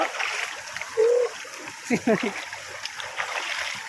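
Water splashes and sloshes in a hot, clear hot spring pool as people bathe, short splatters coming close and mixed with lively voices and a brief whoop.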